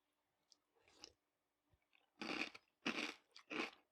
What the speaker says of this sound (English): Crunch, obviously.